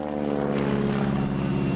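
A vintage propeller aircraft flies aerobatic maneuvers such as loops and Cuban eights at an air show, its engine a loud, steady droning roar that holds throughout.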